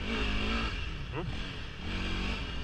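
Honda CRF300L motorcycle engine peeling out on a dirt trail, a steady loud drone with one brief rising rev in the middle, close and continuous throughout.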